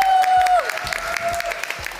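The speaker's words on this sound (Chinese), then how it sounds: "一起为我们整个团队跟练团掌声鼓励一下" Scattered clapping rises over a held musical tone and beat during a live group fitness workout stream, moderately loud and close.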